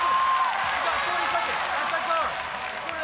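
Loud arena crowd roars and cheers at a ONE Championship women's MMA bout as a fighter secures a takedown and a dominant position. A commentator talks over the sustained noise.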